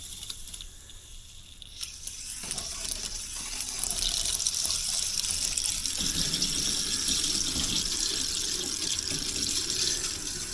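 Water rushes out of a pipe during main water valve replacement in a steady, hissing gush, starting softer and swelling louder after a few seconds, then pouring continuously.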